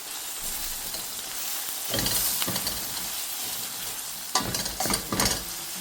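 Green tomatoes sautéing with chili flakes, black pepper, salt and thyme in a pan, a steady close sizzle with a few bursts of scraping and stirring along the way, no voices.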